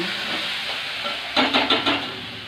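Okra frying in a pan with a low steady sizzle that swells into four short hissing bursts near the end, close by and with no talk.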